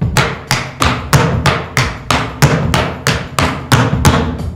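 Tap shoes strike a hard floor in triple shuffle steps, giving about a dozen sharp, evenly spaced percussive clusters in a steady, close, loud rhythm with no talking.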